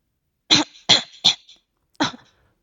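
Four sharp coughs, three in quick succession and then one more after a short pause, close and clear against silence.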